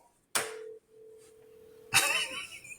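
An outgoing phone call rings out with a steady electronic tone between two sharp clicks and bursts of noise, fairly close and without talk.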